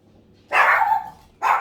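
A dog named Tommy barks twice, close and loud, a sustained bark followed by a shorter one after a brief gap, with no talking.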